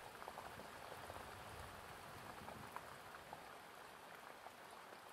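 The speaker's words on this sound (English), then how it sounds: "the sound of the rain on the wood of the jetty" Rain patters steadily on a wooden jetty and surrounding trees, a soft, even hiss scattered with faint drip taps, quiet and continuous.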